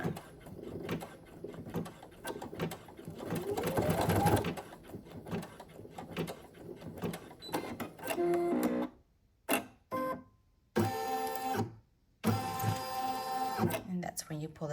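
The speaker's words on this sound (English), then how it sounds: "This is your placement stitch right here for your vinyl." Single-needle embroidery machine sewing a placement stitch for clear vinyl on an in-the-hoop ID badge holder, a rapid mechanical whirring that starts and stops in bursts, with someone talking over the first part.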